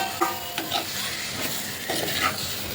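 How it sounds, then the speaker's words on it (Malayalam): Cleaned prawns go into a softened tomato curry base in a pan, giving a soft sizzle with a few spoon scrapes and stirring clicks, quiet and close, with no talk. "ഇതിലേക്ക് നമുക്ക് ചെമ്മീൻ ചേർത്ത് കൊടുക്കാം."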